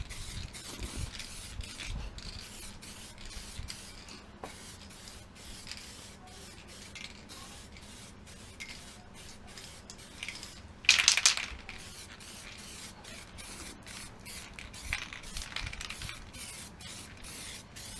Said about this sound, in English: Now what I'm going to do is weld through primer all along the bottom edge where the spot welds are going to be